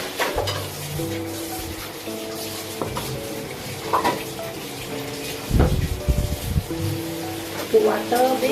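Water poured into a hot cooking pan while boiled chicken is being prepared, a close splashing rush over sizzling and clinking pan sounds, with a short louder gush near the end.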